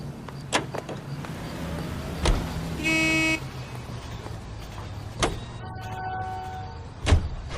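A car driven in LA Noire, a low engine hum running under sharp knocks and thumps, with a short horn toot and faint creaks.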